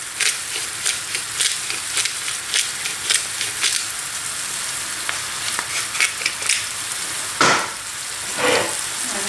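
Seasoned tartiflette ingredients, with cream, salt and ground pepper, are stirred in a pan. A steady crackling sizzle runs throughout, with scraping strokes that repeat and two louder scrapes near the end.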